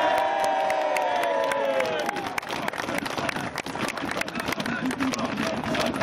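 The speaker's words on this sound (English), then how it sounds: "will you once again give a huge round of applause for your king" A large outdoor crowd at the 2010 Hastings battle reenactment roars and cheers for the king and the English army, a loud, continuous wash of shouts and whoops.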